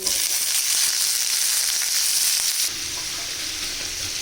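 Vegetables fry in hot oil with black cumin, giving a loud, dense, continuous sizzle up close that drops abruptly to a softer, steady hiss partway through.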